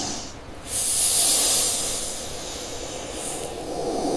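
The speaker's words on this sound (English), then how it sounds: "The dry, rhythmic rattle of the cobras." Cobras in a cave let out long breathy hisses, one swelling strongly near the start and another rising toward the end over a low airy rumble.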